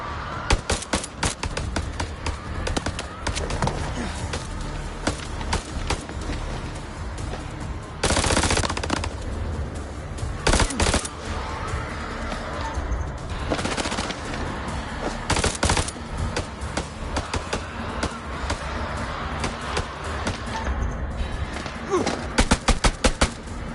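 Rapid automatic gunfire in the game House of Ashes, with dense close bursts of machine-gun shots and a few louder sustained volleys broken by brief pauses.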